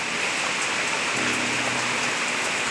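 Steady rain pours down in a dense, even hiss, with no voices and no letup.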